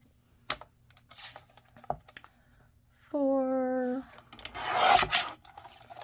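A paper trimmer slices cardstock for a handmade card. A few light taps and rustles lead into a drawn-out rasping stroke of the blade, followed by a brighter scraping slide as the paper is moved.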